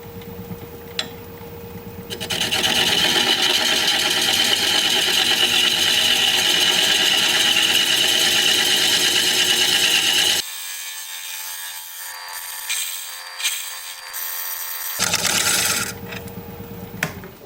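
Wood lathe spinning a turned piece while a tool cleans up its bottom, a loud steady rasping scrape for several seconds, then it cuts out, the lathe hum returning briefly at the end.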